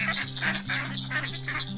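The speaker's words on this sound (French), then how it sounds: "C'est la famille canard qui arrive." A family of ducks, parents with five ducklings, quacks continuously in overlapping nasal calls, close and fairly loud, with a steady low hum beneath.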